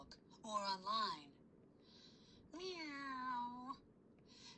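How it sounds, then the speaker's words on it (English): A cat meows twice in a row, the first call short and wavering, the second longer and drawn out, both fairly close and clear over a quiet background. "Meow."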